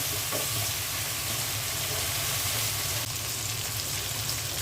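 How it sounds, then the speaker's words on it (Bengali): Vegetables stir-fried with soy sauce and tomato sauce for fried rice, giving a steady, loud sizzle with continuous hissing and faint stirring throughout, no talk. "সয়া সস দিয়ে দিচ্ছি, টমেটো সস দিয়ে দিচ্ছি। এখন ভালো করে নেড়ে চেড়ে দিব।"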